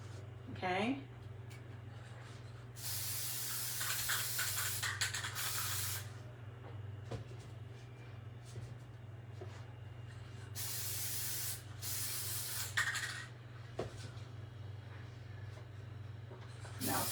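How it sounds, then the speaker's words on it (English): Spray paint hisses from an aerosol can onto a Dollar Tree primitive Easter peeps craft in two long bursts, close and loud, separated by a quieter pause with faint handling sounds. "So now we're going to take this and spray it."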